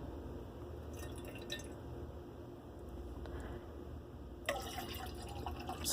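Water poured out of a tumbler trickles and drips quietly and continuously, with a brief louder splash near the end.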